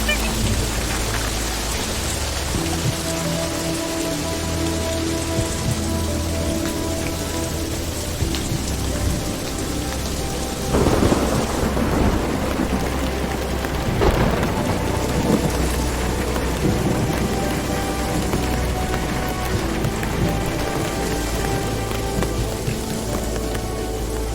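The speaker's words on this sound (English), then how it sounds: "There is thundering and all." Steady heavy rain pours throughout, with deep rolls of thunder rumbling in the middle of the downpour.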